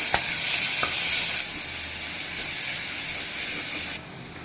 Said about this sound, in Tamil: இப்போ நம்ம இது கூட இஞ்சி பூண்டு பேஸ்ட்டை ஆட் பண்ணி நல்லா கிளறி விட்டுக்கலாம்.